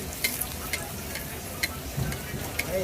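Green pea kachori frying in hot oil in a kadai, a steady soft sizzle with light bubbling and a few sharp crackles and pops, close and alone without talk.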